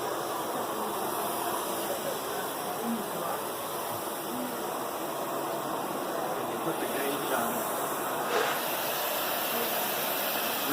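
Sebo vacuum cleaner running at full power gives a steady, loud broadband whoosh of airflow with a constant motor hum, unbroken for the whole stretch and with no talk over it.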